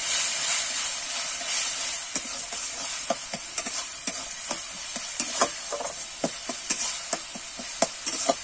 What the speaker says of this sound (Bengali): এইভাবে কিন্তু আমি কষাতে থাকবো যতক্ষণ না মশলা থেকে তেলটা ছেড়ে দেবে।